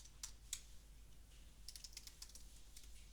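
Names are typed on a computer keyboard in a quiet room: a few separated keystrokes, then a quicker irregular run of soft clicks, faint and close with no talking.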